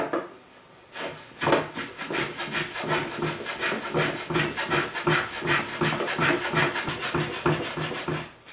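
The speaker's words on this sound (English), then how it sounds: "Next up for the test is an old Stanley number 140 skewed block plane." An old Stanley No. 140 skewed block plane scrapes across a wood plug in quick, steady repeated strokes, a dry rasping sound close by, with no talking.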